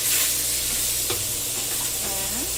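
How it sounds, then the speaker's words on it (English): Chicken pieces sizzle steadily in a hot frying pan for a keto chicken curry, a continuous close crackle and hiss with a faint scrape of stirring. "Just spread this around in the frying pan, and we're going to let this brown"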